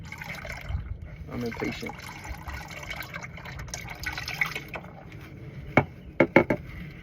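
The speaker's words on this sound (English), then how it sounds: "You usually want to let it drip like this for a little minute" Engine oil trickles and drips from a 2022 VW Jetta GLI during an oil change, a steady wet patter with a few sharper taps near the end, while someone briefly speaks.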